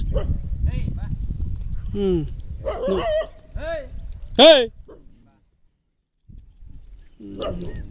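A few dog barks and yips ring out between people talking nearby, followed by a brief pause before the voices resume.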